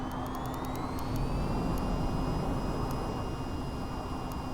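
VTOL jet lifting straight up from an oil rig helipad in a flight game, a steady loud turbine roar with whining tones climbing in pitch and a few short beeps.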